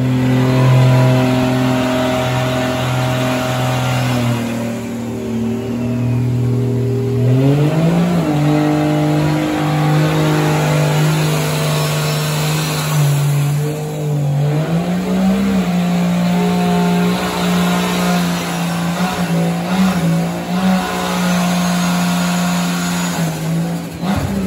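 A Nissan S13 fitted with a 550 hp 2JZ-GTE engine on E85 revs loudly close by, the pitch climbing and dropping through several pulls, a harsh sustained tuned-engine roar with no talking.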